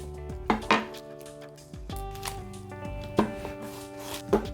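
A knife cuts orange pepper and white onion into thick juliennes on a board, giving a handful of separate close chops and clacks with faint ringing tones from nearby kitchenware between strokes.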